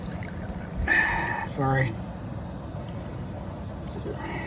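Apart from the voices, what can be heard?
pouring gas fuel into a 425B camp stove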